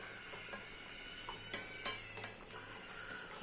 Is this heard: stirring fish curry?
yes